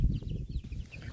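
Several chicks picked from an older brood cheep and cluck close by, in a busy, continuous patter of short calls over low rustling and handling noise.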